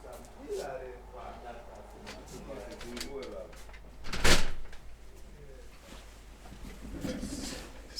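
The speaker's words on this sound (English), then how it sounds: "Let me close the door" An indoor door is pulled shut in a room, giving one sharp, fairly loud thud in the middle. Faint background noise and light room sounds come before and after it.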